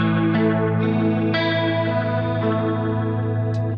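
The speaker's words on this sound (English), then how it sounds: "is bringing in a rotary effect" An electric guitar through a Boss GX-100 preset with a rotary effect holds a sustained, gritty chord whose tone swirls and wavers as new notes are struck, loud and continuous.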